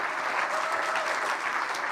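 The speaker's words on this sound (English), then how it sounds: "Let's give them all a round of applause." An audience at a global health awards ceremony applauds the finalists and winners with dense, steady clapping that stays loud and even throughout.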